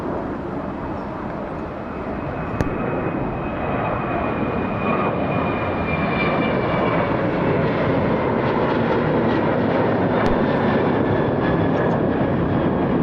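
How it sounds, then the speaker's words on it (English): A Delta Airlines Boeing jet departs Atlanta airport with a loud, steady engine roar that builds gradually and holds, broad and sustained, with no talk over it. "departing Atlanta is Delta Airlines Flight 2601 en route to its destination of Baltimore"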